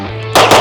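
A single loud gunshot cracks at a shooting range right beside the listener, a sharp close blast that rings briefly and echoes after a low steady hum.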